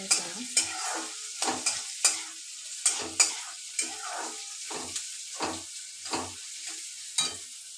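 Cumin seeds and ginger sizzle in hot oil in a pan as a spatula stirs them, giving a steady run of sharp, close scraping strokes over a soft frying hiss with no talk.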